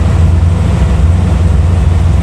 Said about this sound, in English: Now if we'll stay idling, let her run for a little bit here and get warmed up.